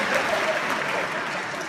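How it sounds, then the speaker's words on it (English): Audience at a San Francisco comedy awards show claps steadily, a dense, even wash of applause lasting the whole moment. "Yeah, you can clap for him."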